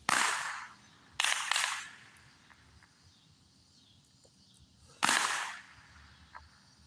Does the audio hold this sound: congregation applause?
no